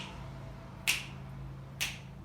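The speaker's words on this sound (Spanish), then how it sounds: "vamos a chasquear." Two crisp finger snaps, the first just before the one-second mark and the second about a second later, each sharp and close against a low steady hum.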